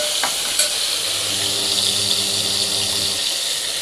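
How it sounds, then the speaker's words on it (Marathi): Tomatoes frying with garlic and curry leaves in a pan for a Maharashtrian dish, a steady close sizzle with a few scraping stirs, no voices. "टोमॅटो पण 2 मिनिटं परतवून घेऊयात"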